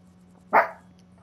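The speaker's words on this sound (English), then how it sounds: "Who is he barking at?" A single short dog bark, moderately faint and somewhat distant, stands out over a steady low hum indoors during a Fortnite session.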